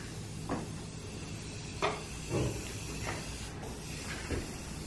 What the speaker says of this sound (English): Nothing like breathing in spray paint fumes early in the morning.